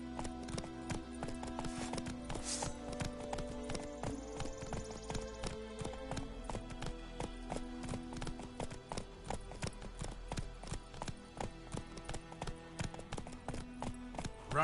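Roach the horse galloping in The Witcher 3, a quick, even clip-clop of hooves continuing throughout over low game music and ambience.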